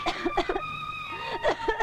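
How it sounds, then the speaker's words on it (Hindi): A woman coughs several times in a row in a short rough burst, close and fairly loud, from a scene in the Hindi film Jallad No. 1. "इतना क्यों खांस रही है?"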